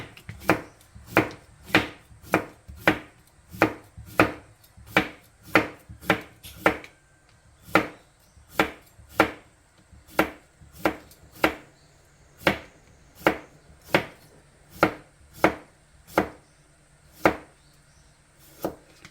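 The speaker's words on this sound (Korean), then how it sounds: "깨끗이 씻어서 채를 썰어 옵니다" A knife cutting cucumber into thin julienne strips on a cutting board for chilled cucumber seaweed soup, with crisp, evenly spaced chops in a steady rhythm, close and clear, with no talking.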